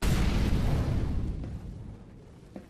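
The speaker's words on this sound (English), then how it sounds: "Throwing a grenade." A grenade explodes in a solo-queue matchmaking video game, a loud low rumbling boom at the start that fades over about two seconds, followed by a faint small pop.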